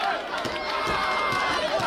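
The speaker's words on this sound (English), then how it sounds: "Crowd coming alive once again" Wrestling match crowd in an arena cheering and rallying behind a wrestler during a tag-team bout, a dense roar of many voices with scattered claps and footfalls, close and fairly loud.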